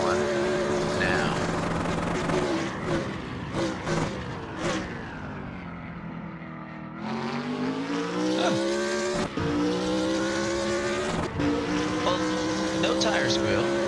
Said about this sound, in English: you can hear the difference in the power of the engine and just how hard these cars are pushing